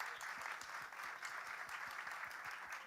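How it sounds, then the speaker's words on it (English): A large audience claps in a dense, continuous round of applause at an Oholei Torah kumzitz gathering, heard from a distance, fairly faint and steady throughout. "let's give them a round of applause."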